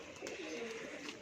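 A purple-coloured female pigeon coos in a soft, continuous call lasting about a second, faint and close, with no other sounds over it.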